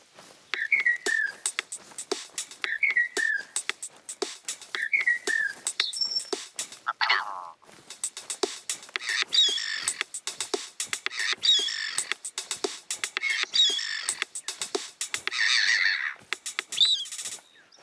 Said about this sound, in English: We recorded the call of some birds and made this.